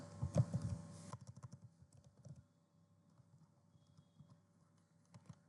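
Keys tapped on a computer keyboard during an HTML coding lesson, a quick burst of loud clicks at first, then a lighter, irregular patter of keystrokes that fades and returns near the end.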